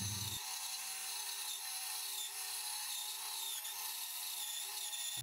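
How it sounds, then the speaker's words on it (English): A bandsaw cuts the first side of a wooden sledgehammer handle, giving a steady, faint hiss and whir that runs evenly for several seconds with no voices. "Here, I cut the first side on the bandsaw."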